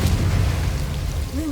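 A Confringo blasting spell explodes in Hogwarts Legacy, a loud low rumbling boom with sustained crackling wash, close and dominant, with a brief voice rising near the end.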